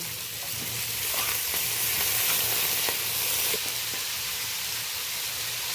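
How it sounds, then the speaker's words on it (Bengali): Cut potatoes go into a pan where shrimp has been fried with onion and green chilli, a loud, continuous close sizzle and hiss with faint stirring, no voices. "এবার আমি কেটে রাখা আলুটা দিয়ে দেব"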